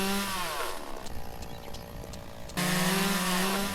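A chainsaw runs at a steady, loud idle-to-cut drone, dips into a rougher grinding stretch as it cuts near a tree stump and rock, then surges back to full roaring revs.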